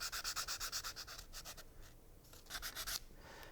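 Sandpaper wrapped around a dowel is rubbed by hand along wooden edges, giving rapid rhythmic scratchy strokes in short bursts with a pause in the middle; quiet and close, no voices.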